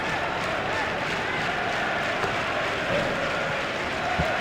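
A cricket stadium crowd at an India versus South Africa Test match applauds a boundary shot, a steady wash of clapping and cheering from many spectators that holds evenly throughout.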